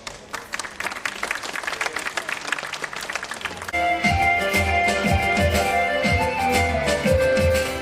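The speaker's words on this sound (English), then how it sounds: "Please welcome them with a huge round of applause, parents." Parents applaud nursery children at a school presentation, a rapid scatter of clapping that gives way partway through to louder music with sustained tones.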